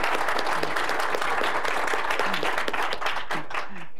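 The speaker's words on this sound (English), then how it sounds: "And you just got an applause." Steady applause from a sea ice prediction workshop audience after a speaker finishes, dense clapping at constant loudness throughout, with faint voices mixed in.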